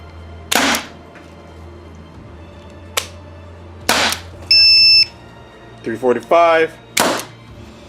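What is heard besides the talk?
paintball revolver marker firing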